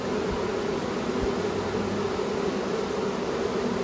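A spring swarm of honey bees buzzes in a loud, continuous, close drone as stray bees circle a box looking for the cluster, alone without voices.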